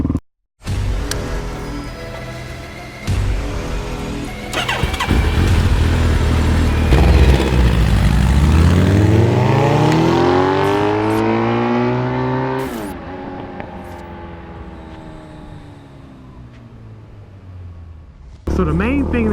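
A Suzuki DRZ motorcycle is ridden on the road, its engine revving up through the gears and holding a steady drone, with a brief lull and wind rushing past throughout.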